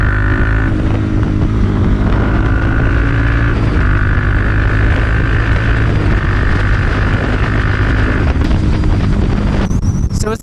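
A 2021 Honda CB300R fitted with an Akrapovic exhaust cruises at about 100 km/h. Its engine drones steadily and loudly under heavy wind rush, with the engine note shifting slightly in pitch and a brief change near the end.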